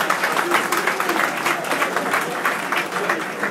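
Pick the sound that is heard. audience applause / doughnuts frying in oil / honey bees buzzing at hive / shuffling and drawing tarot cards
audience applause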